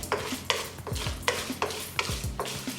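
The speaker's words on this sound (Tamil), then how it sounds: "மஞ்சத்தூள் எண்ணெயிலே போட்டுருங்க" Dried red chillies and turmeric frying in hot oil in a pan for tamarind rice, with a soft steady sizzle and regular spoon stirring and scraping strokes close by.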